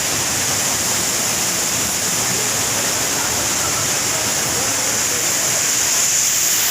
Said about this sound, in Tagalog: Redstone Falls.